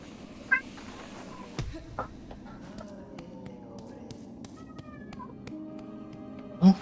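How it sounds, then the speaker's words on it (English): A cat meows a few times against quiet room noise. The meows come with taps and shuffling sounds and a sharp thump at the end, and a person speaks softly to it. "Oh, kitty."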